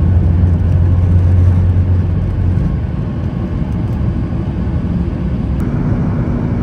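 A passenger jet on a New Delhi to Srinagar flight taxis toward the runway, its engines giving a loud, steady whirring drone heard from inside the cabin, easing slightly partway through.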